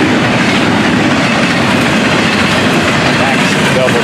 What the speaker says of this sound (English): Stack train here on this head end.